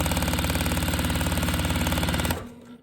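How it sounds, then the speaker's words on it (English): A sewing machine runs steadily, stitching a quarter-inch seam along a half-square-triangle quilt block, its fast even whir continuing for about two seconds before stopping abruptly into quiet. "So we'll sew this one down. 1/4 of an inch, following that line."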